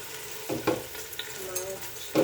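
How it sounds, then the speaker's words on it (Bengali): Meat dropped into a little hot oil for a papaya curry, giving a few soft sizzles and stirring scrapes spaced apart, near and moderate in level, with no talking. "তো একটু তেল দিয়ে দিলাম আর দিয়ে দিচ্ছি মাংসটা"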